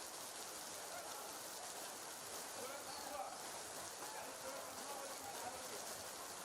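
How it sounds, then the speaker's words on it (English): Heavy rain pours down on an outdoor football pitch during an inter-school match, a dense, steady hiss that fills the whole clip with no pauses and no voices heard. "Because that is a very heavy rain."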